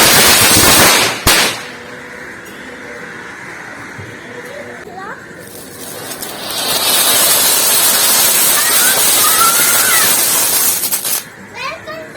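Diwali firecrackers from a children's gift box bursting close by: one sharp bang, then a long run of crackling pops, with children's voices around them.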